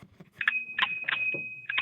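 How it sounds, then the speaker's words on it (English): A bell rings in a podcast studio as a steady sustained tone, with short bright clinks over it and faint background sounds. "That's his bell."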